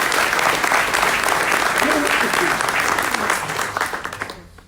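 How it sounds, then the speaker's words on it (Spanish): A conference audience applauds a speaker at a Latin American event, a loud, dense round of clapping that holds steady and then fades out near the end. "Un aplauso para María Martí,"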